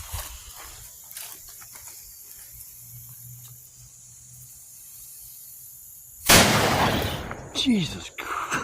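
On a cold night outdoors, a large firecracker goes off with a sudden loud, close bang after several seconds of quiet rustling, then crackling debris and a burst of voices follow.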